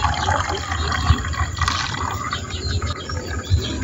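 Plain water is poured into a bottle holding a shrimp-shell chitosan ferment mix, a steady broadband splashing and trickling that runs the whole time, fairly close, with no talk.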